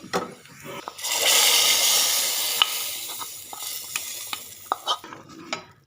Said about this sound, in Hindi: बघार हमारा रेडी हो चुका है, अब हम इसको ऊपर डाल देते हैं।